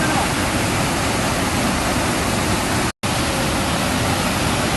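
Heavy rain and rushing flood water at Gunung Pandan roar as a loud, steady broadband wash, with a brief dropout near the three-second mark.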